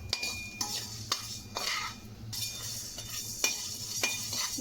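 Spices dry-roasting in a pan over a low flame for a no-onion, no-garlic temple-style sambar, stirred with a utensil that gives sharp scraping clicks at irregular intervals over a faint, steady sizzle.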